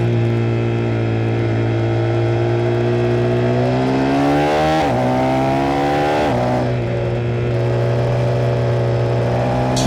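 A motorcycle engine drones loud and steady as the bike rides on a track, its pitch climbing and dipping through gear changes, with a rider comparing A2 bikes like the KTM 390, Yamaha R3, MT-07 and 790.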